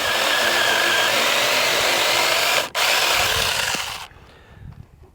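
A Seyvum mini cordless chainsaw cuts through solid wood with a loud, steady buzzing whine and a brief dip midway, then cuts off abruptly, leaving faint rustling.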